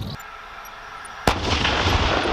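An Abrams tank fires during a platoon live-fire exercise, one heavy blast from the main gun cutting through steady engine and wind rumble, followed by a rolling, lingering boom.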